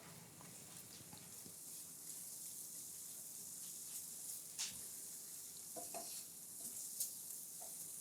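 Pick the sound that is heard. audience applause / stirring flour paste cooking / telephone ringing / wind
stirring flour paste cooking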